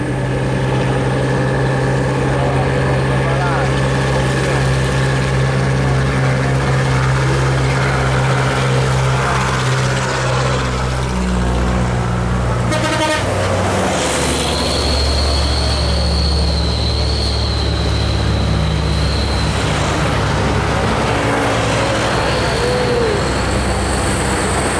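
A Volvo B11R bus passes on a road, its engine droning loud and heavy, with a sharp burst of rattling mid-way and a high whine afterward as it moves by.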